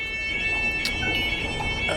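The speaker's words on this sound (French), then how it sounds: "Oh, c'est une alarme d'incendie." Fire alarm ringing indoors during a live experimental music performance, a steady high-pitched electronic tone sustained without break over a noisy textured background.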